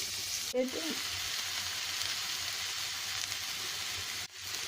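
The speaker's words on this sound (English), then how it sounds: "So now I added all the vegetables in the oil" Vegetables fry in oil flavored with garlic, oregano, thyme and basil, giving a steady close hiss broken by a brief scrape and a short dip in the sizzle.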